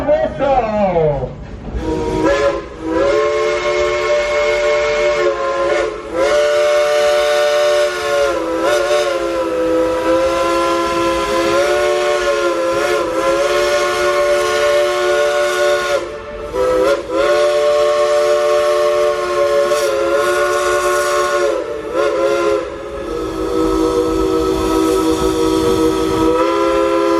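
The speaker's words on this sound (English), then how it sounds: "let's go tell the engineer to blow the whistle" The Crosby three-chime steam whistle of the Dollywood Express train sounds in long, loud, sustained chords, blown repeatedly over nearly half a minute with short breaks between blasts.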